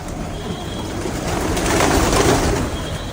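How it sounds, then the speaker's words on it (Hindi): Pigeons gathered in a flock nearby, their soft cooing and rustling mixed into a steady, fairly loud background of outdoor noise with no clear talk. "पूरी कबूतर आ गई यहाँ पे।"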